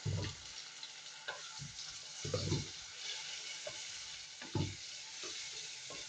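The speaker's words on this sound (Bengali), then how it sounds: "মাংসটা কষিয়ে নেব, মাংসটা সামান্য নেড়ে নিচ্ছে আসলে" Meat for chickpea biryani being stirred and fried in a pan, a steady sizzle broken by several thumping stirs at intervals, fairly close and moderately loud.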